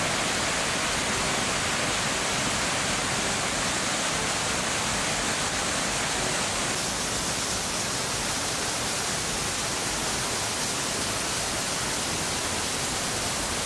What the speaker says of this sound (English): A great flow of water was streaming down the creek, the result of the melting snow and ice